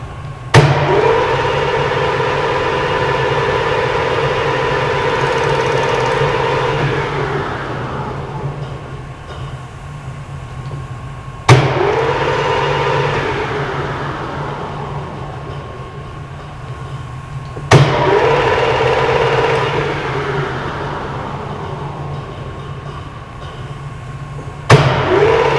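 Monarch CK12 lathe running and cutting metal, a steady mechanical drone that winds down and restarts, with sharp clunks of the clutch engaging about every six seconds.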